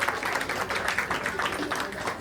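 An audience claps at a school open day and farewell event at Sharma Academy, Pune, a dense, steady patter that lasts the whole moment, with some voices mixed in.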